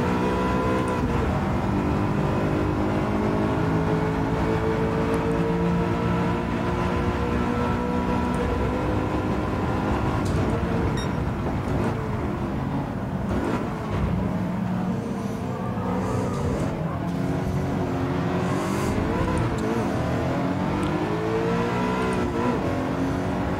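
Engine of a car in the racing game Gran Turismo 7 revving hard under acceleration, sustained and loud with rising engine tones and gear shifts throughout, no talk.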